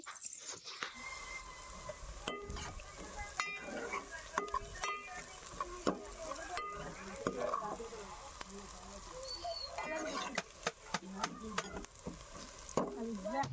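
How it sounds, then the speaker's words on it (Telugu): Thinly sliced onions and green chillies sizzle in a pan, with a steady frying hiss broken by sharp clinks and scrapes of a utensil stirring against the pan, close and moderately loud. "పచ్చిమిరపకాయలు ఉల్లిపాయలు అయితే సన్నగా కట్ చేసుకొని ఇలా అయితే అందులో వేసి అవి కూడా గోల్డెన్ కలర్ వచ్చేంత వరకు అయితే ఫ్రై చేసుకోవాలి"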